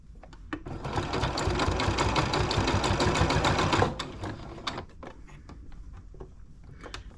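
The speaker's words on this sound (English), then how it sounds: "Sometimes my sewing machine likes to eat my fabric up" A sewing machine stitches a neckband onto a sweatshirt, running in a fast steady burst for about three seconds, then giving a few short stitches and mechanical clicks nearby.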